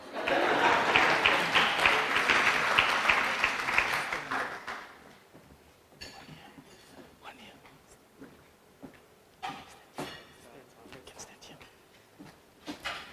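Applause at a university excellence awards ceremony, a full burst of clapping for about four seconds that dies away, followed by quieter room noise with scattered claps, shuffling and soft murmuring.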